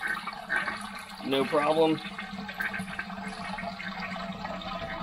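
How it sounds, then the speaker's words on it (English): A barn toilet fed from a rain barrel flushes with a brief swirl and gush of water, then a quieter trickle as the tank refills more slowly than normal, under a person's brief speech. "So toilet flushes,"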